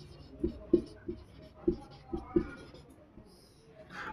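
Handwriting an answer with a pen on paper, heard as about half a dozen soft tapping and scratching strokes in an irregular rhythm, close but faint, with a quiet background.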